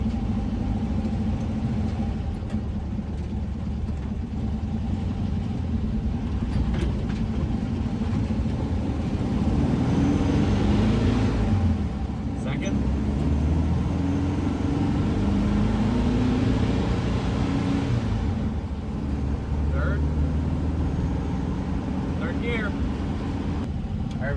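A 1966 VW Bus engine pulling in first gear, a loud, continuous low rumble that swells mid-way, with people talking quietly beneath it.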